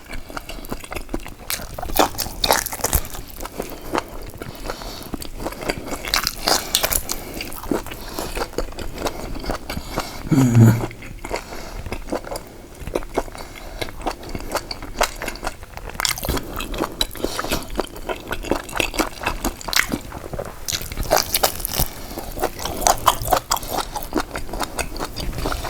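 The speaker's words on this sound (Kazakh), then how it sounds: "Бас жесең осылай жеу керек." Biting and chewing of a sheep's head, with close, repeated wet squishes and crunches spread across the whole stretch and one louder bite partway through.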